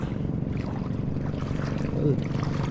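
A fishing boat engine drones steadily on the water with wind and splashing around it, and a brief voice near the end.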